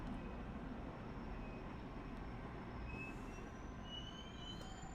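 A Long Island Rail Road train slows to a stop at a Queens Village station platform, giving a faint, steady rumble of rolling wheels with thin, high squeals drifting in and out.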